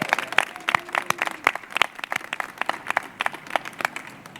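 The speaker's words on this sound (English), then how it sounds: "Let's give a big round of applause to the Institute for Community Living and all they do" A crowd at a public announcement event claps, with scattered sharp hand claps that are near and fairly loud, continuing unevenly throughout without voices.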